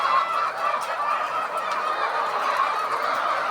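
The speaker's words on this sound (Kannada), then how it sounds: "ನೋಡಿ ಇದು ಈ ಕೋಳಿ ತತ್ತಿ ಹಾಕು ಫಾರ್ಮ ನೋಡಿ ಇದು ಮ್ಯಾಲ ಕೋಳಿ ಇದಾವೆ" Chickens kept at an egg-laying poultry farm make a dense, steady clamour of many birds, a loud continuous chorus of calls and clucks close by with no talk.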